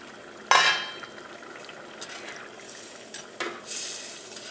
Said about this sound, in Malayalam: നമുക്ക് മൂടി വയ്ക്കാം